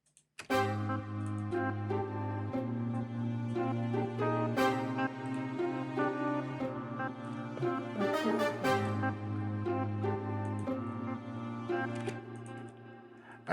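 Plucked pizzicato strings from a Nexus software instrument in FL Studio play a busy, bouncy afro house pattern, continuous and dense, with no talking.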